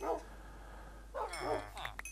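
Tamed wolves barking in the Minecraft video game, a few short yips and barks in two brief bursts with quieter game ambience between.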